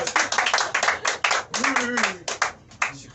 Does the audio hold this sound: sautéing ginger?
no